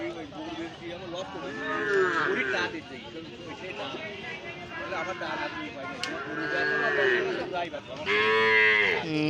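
Cattle at a busy livestock market low repeatedly, several drawn-out moos rising and falling over a crowd's constant chatter, with people talking nearby throughout.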